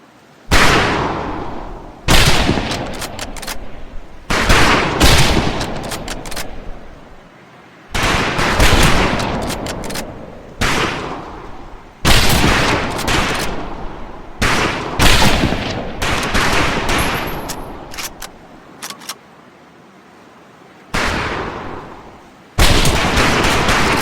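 Rifle fire on a firing range in the video game Medal of Honor Pacific Assault: loud, close bursts of rapid shots in several long volleys, separated by brief quiet gaps, with no speech.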